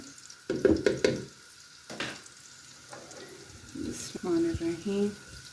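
Chicken cubes drop into garlic frying in a pan, with a sizzle and stirring clatter, a few sharp hits early, then a softer, steady fry. A voice speaks briefly.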